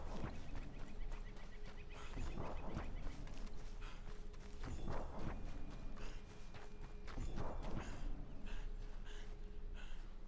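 Horse hooves clopping in Red Dead Redemption 2, a steady run of soft, evenly spaced steps over a constant ambient game background, with occasional louder thuds and no talking.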